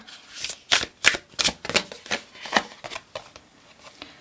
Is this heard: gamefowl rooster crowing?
no